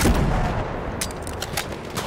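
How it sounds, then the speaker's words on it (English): Machine-gun fire in Battlefield 1 makes a loud, steady rattle of close shots over a heavy rumbling din of battle, with a few sharper cracks standing out. "Look out, machine gun."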